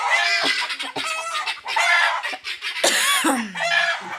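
Several chickens cluck close by in a busy, overlapping chorus, with a longer rising call near the end.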